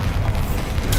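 The Bombarda spell detonates in Hogwarts Legacy, a loud booming blast with deep rumbling low end, close and alone without speech.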